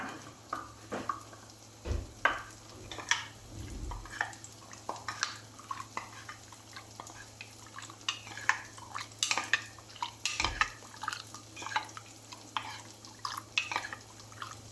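Rice flour being stirred into a mixture in a bowl for a banana sweet, with irregular scraping and clinking of a spoon against the bowl and occasional soft knocks over a faint background hum.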